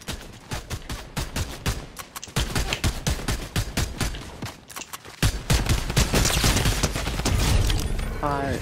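Rapid shotgun blasts and other gunfire crack out in a Fortnite Season 4 match, loud sharp reports in quick irregular bursts, with dense overlapping shots building toward the end.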